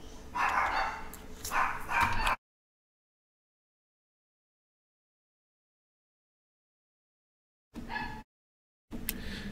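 A small dog barks and yips indoors in a short, loud burst for about two seconds, then a long silence before two brief further sounds near the end.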